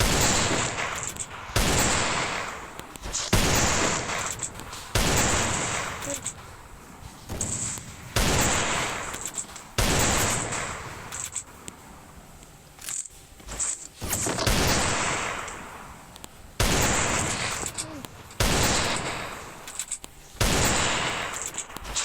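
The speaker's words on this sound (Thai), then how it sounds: "ทำไมเสียงปืนมันเป็นอย่างนั้นอะ" Loud video game gunfire comes in repeated bursts of rapid automatic shots, separated by short pauses, over about twenty seconds with almost no talk.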